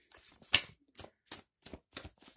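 Tarot cards being shuffled close by in several short, crisp riffling bursts separated by brief pauses, quiet and alone with no talking.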